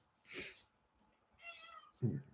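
A pet cat gives a couple of short meows indoors, close and fairly quiet, with a brief louder call near the end.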